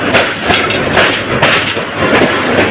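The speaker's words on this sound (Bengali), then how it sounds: "বিমানবন্দর রেল স্টেশনে সুগন্ধ এক্সপ্রেস ট্রেনটি প্রবেশ করেছে" The Sugandha Express train rolls into Airport railway station at close range, with loud rhythmic clanks from the wheels repeating about every half second over a rumbling roar.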